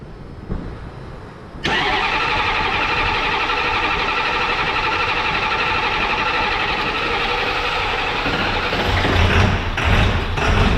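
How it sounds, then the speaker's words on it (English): Ford 7.3 Powerstroke diesel in an OBS Ford truck cranks briefly, then catches and settles into a loud, steady diesel idle with a rough clatter, running close and alone for the rest of the stretch. "Alright, it's gonna have to crank for a while."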